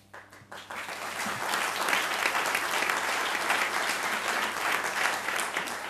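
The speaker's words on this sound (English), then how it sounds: "I want you to get the applause out of your system" Audience at a Maryland attorney general candidates' debate breaks into sustained applause, rising quickly after a soft start and holding loud and steady, a dense wash of many clapping hands.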